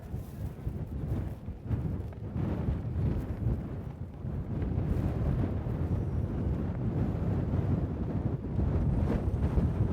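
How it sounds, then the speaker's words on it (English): Steady wind rushes across open fields at an Elkridge-Harford Hunt point-to-point race, a continuous low buffeting roar against the microphone that gusts slightly stronger toward the end, with no voices. "with a soft breeze blowing here across the beautiful fields of Atlanta Hall"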